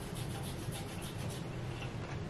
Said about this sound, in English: To clean my tongue, I use my tongue scrapers and I'm gonna demonstrate how.